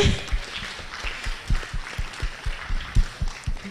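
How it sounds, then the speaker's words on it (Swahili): Applause from a seated audience at a youth science and technology summit, a moderate run of rhythmic clapping heard from a distance, fairly even and unhurried. "Naomba tupige makofi tafadhali."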